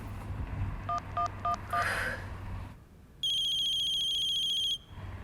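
A phone rings on unanswered: a few quick dial-tone beeps, then a steady, loud electronic ringtone trill holds for about a second and a half before cutting off, with low background hum throughout.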